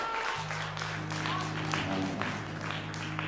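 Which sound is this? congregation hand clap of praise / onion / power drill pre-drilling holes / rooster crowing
congregation hand clap of praise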